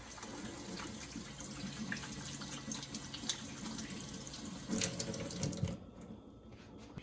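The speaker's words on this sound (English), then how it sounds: "I'm going to wash my hands because we just touched the meat." Running water from a kitchen tap splashes steadily into a sink as hands are washed after handling raw meat while cooking Vietnamese hu tieu, then cuts off abruptly near the end.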